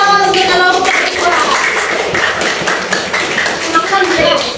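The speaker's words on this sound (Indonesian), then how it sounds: "Ayo tepuk tangan untuk kelompok 2." Classmates clap for a student group in a classroom, a lively burst of scattered hand claps with voices mixed in, fairly close and continuous.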